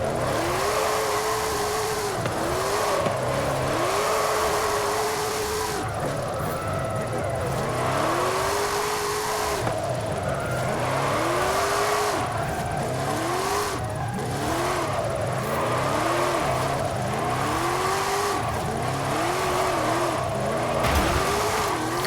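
A 2013 Hot Wheels Baja Bone Shaker off-road car with an AWD drift tune in a racing video game, its engine revving hard in repeated rising and falling surges, loud and continuous with faint tire scrubbing.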